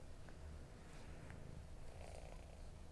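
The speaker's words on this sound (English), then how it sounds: "she's purring so much" A cat purrs very softly and continuously, a faint low rumble close by with quiet room noise and no talk.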